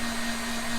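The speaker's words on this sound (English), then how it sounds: "We're going to hit it with the heat gun real fast." Heat gun blowing hot air to dry airbrushed paint on a deep-diving crankbait fishing lure, a steady close whirring fan hiss with a constant hum and no pauses.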